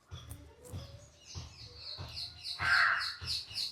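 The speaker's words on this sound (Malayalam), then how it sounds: "കാക്ക, ലവ് ബേർഡ്സ്," Crows caw repeatedly, a series of sharp, harsh calls spaced irregularly, moderately close, the last few louder, with faint chirps in between.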